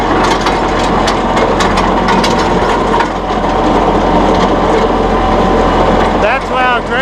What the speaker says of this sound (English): Here, put the scarifiers in action and pull more material.